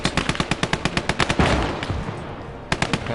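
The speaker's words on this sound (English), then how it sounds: "we're taking fire from the other objective" Rapid machine-gun bursts in the World War II strategy game Call to Arms: Gates of Hell, Eastern Front, loud and rhythmic, then a heavy rumbling explosion fading out before a short final burst.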